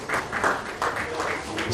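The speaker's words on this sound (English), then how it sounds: "Please, a round of applause for them now." Conference audience at a Freedom of Religion gathering applauds, a fairly faint, steady wash of clapping from a room of people lasting a couple of seconds.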